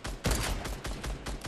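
Gunfire in Fortnite, a quick volley of several sharp shots in an uneven rhythm, loud and fairly close, lasting under two seconds with no talk over it.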